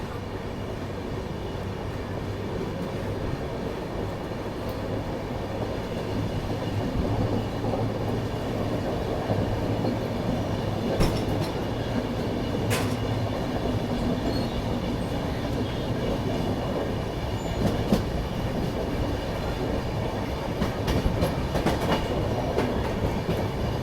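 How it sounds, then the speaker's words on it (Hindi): The Farakka Express pulls out of New Farakka Junction station, heard from on board as a steady rolling rumble with rhythmic clickety-clack of wheels and occasional sharp clanks of the coaches. "अपनी ट्रेन निकल चुकी है new Farakka junction railway station"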